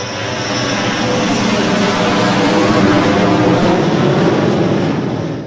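A helicopter in a Half-Life video game level gives a loud, close, sustained roaring engine and rotor drone that swells slightly before fading at the end.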